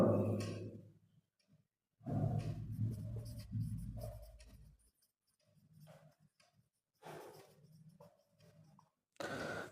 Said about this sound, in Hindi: लिखेंगे बाय पाइथागोरस थ्योरम